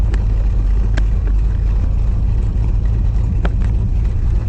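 A 1980 Corvette with a hot cam and stage 1 upgrades, on 18-inch wheels, driving on a test run: a loud, continuous low engine rumble with a few sharp clicks and knocks and no talking.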